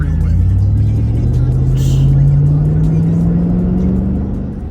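A car creeping through stop-and-go freeway traffic gives off a loud, close engine drone whose pitch climbs slowly and steadily as it eases forward, then fades slightly at the end.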